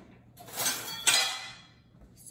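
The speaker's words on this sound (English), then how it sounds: "So I'm just gonna whisk this in, make sure it's all good." Coconut cake batter is whisked in a bowl, producing a couple of close, bright scraping and clinking strokes with quiet gaps between them.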